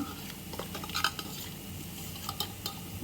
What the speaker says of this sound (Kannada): ಈಗ ಇದನ್ನು ಒಂದು ಮ್ಯಾಶನ್ನಿಂದ ಸ್ವಲ್ಪ ಮ್ಯಾಶ್ ಮಾಡ್ಕೊಳ್ಬೇಕು